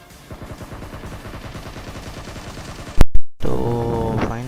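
Rapid spraying gunfire in PUBG Mobile, a long steady stream of closely spaced shots at moderate level, then two or three much louder close bursts near the end followed by a short tonal game sound.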